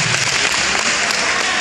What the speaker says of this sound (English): Let's give all the graduates one more time a round of applause.